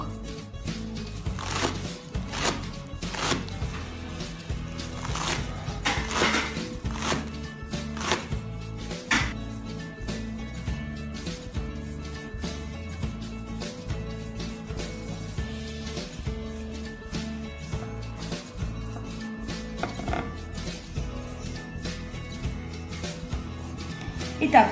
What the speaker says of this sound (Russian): теперь я возьму острый нож и начинаю нарезать лук